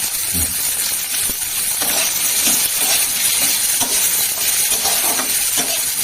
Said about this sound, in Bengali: এর সাথে পেঁয়াজটাও দিয়ে দিচ্ছে ভাজা আমরা